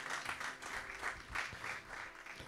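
A church congregation applauds together to acclaim the Lord: a dense, steady wash of many hands clapping with a loose rhythmic pulse, filling the room for a couple of seconds with no one speaking.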